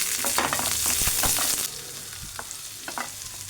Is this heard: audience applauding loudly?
no